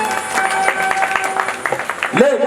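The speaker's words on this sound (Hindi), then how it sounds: "मीठी मीठी तालियां बजाओगे ना" An audience claps along in rhythm to devotional Hindi aarti singing, quick hand claps running under a singer's amplified voice and music.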